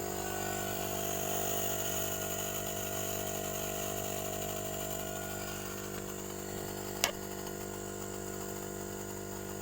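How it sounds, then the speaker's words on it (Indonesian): The compressor of a jumbo freezer box, which had seized and knocked before being welded, runs with a steady, even electric hum and drone, broken by one brief click near the end, with no talking. "Sekarang coba kita akan menyalakan apakah masih hidup kompresornya setelah kita las."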